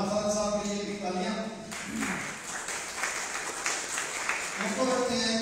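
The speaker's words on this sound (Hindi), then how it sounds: "साहब के लिए भी तालियां।" Applause from the audience at an Urdu poetry mushaira, a steady wash of clapping lasting several seconds between stretches of talk.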